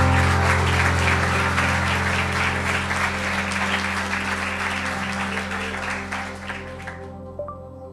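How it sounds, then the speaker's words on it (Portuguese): A church congregation claps together during a worship service at IBR Lisboa, a dense, steady round of applause over a sustained musical tone that gradually thins and fades out near the end. "Dê uma salva de palmas a esse Deus."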